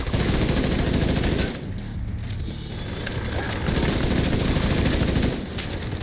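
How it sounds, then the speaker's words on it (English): Rapid bursts of automatic gunfire in the video game The Division 2, loud and close, with a short lull in the middle before the firing picks up again. "I heard gunshots."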